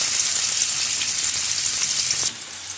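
Elephant yam slices shallow-fry in oil on a flat tawa until golden brown, giving a loud, steady crackling sizzle that drops noticeably in level near the end.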